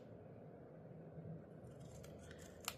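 Scissors cutting paper for a handmade shaker card, quiet snips and blade clicks at close range, ending in a few crisp cuts over a low room hum.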